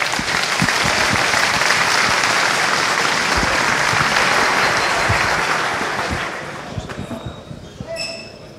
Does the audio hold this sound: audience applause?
yes